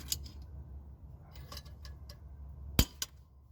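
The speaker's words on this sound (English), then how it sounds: "I don't know if I'll be able to break it loose just with this small Allen wrench." A small Allen wrench with a cheater bar works a transmission plug on a cheap V8 Mercedes: a few light metallic clicks, then one sharp, close crack as the plug breaks free and a softer tick after it, with no talking.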